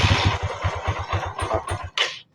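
A warm motorcycle engine with a carburetor problem idles roughly in uneven, chugging pulses, then falters and cuts out, followed by a brief breathy hiss before silence.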